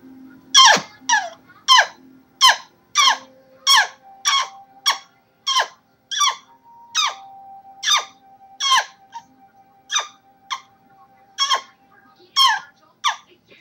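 A homemade turkey call played by sucking air in gives a rapid run of sharp, high squeaky yelps, about twenty in a steady rhythm, loud and close, with a faint thin whistle between some notes.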